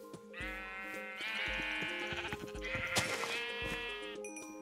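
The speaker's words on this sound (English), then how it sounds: "Oh, there's some sheepies." Sheep in Minecraft bleat in a series of clear, wavering synthetic calls that overlap one another at close range, alone with no talk.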